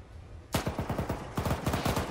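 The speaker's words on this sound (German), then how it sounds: "Die schießen auf uns." Enemy gunfire in the video game Arma 3, a sudden burst of rapid, loud shots in two quick volleys separated by a brief gap, with no speech over it.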